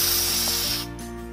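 A short, steady hiss of edible shimmer spray from an aerosol can onto cupcakes, cutting off abruptly near the end.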